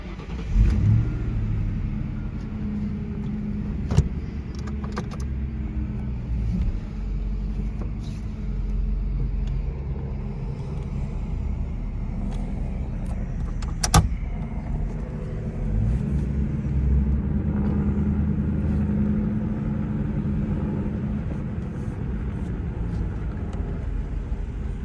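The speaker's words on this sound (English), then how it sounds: "diesel truck doing engine brakes, not my car making noise" A diesel truck uses its engine brake, giving a steady low rumbling roar that carries on throughout at moderate distance, with a couple of brief sharp clicks and no speech.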